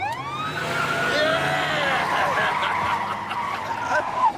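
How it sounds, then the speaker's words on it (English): A stolen police car speeds away, tires skidding and screeching repeatedly as its siren wails, loud and close with engine roar throughout. "We're in a stolen police car and we are running from the law."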